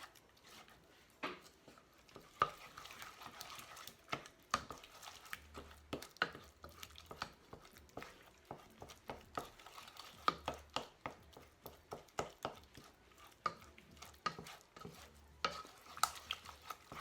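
A wooden spoon stirs thick churro dough in a bowl, producing repeated soft scraping knocks and thuds in a loose, uneven rhythm, close and fairly quiet, with no talking.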